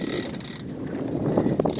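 Fishing line runs out from a reel while tuna fishing at sea, a continuous loud ratcheting buzz that rises and falls over wind and boat noise.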